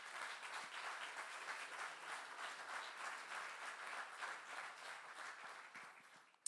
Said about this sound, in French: J'aimerais qu'on lui donne une grande main d'applaudissement.